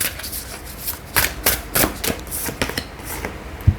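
A deck of tarot cards is shuffled by hand up close, a loud, busy run of repeated riffles and slaps of card against card that continues without any speech.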